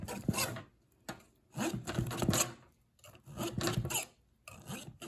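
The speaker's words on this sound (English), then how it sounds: "Loosening the cake all around from the springform rim." A knife scrapes around the rim of a springform pan to loosen a German onion cake, making quiet rasping strokes in four or five separate bursts with short gaps between.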